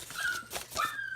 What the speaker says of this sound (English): You'll have to excuse the whining in the background.